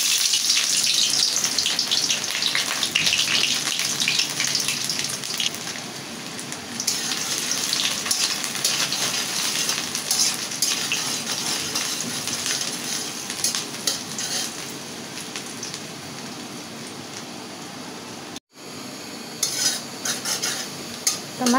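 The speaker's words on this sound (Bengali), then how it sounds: "এখন আমি পেঁয়াজটা দিয়ে দেব।" Onions frying in hot oil for a Bengali hilsa fish head and poi greens broth, a loud, steady sizzle with the scrape and clink of a stirring utensil against the pan, plus a brief break near the end.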